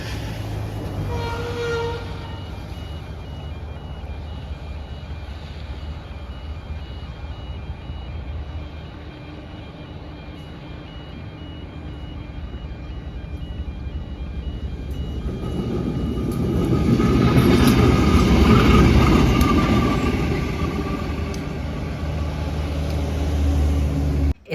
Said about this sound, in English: Aurizon 2800 class 2828 leading a singular cement wagon through Anunba